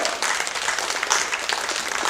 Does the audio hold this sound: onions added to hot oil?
no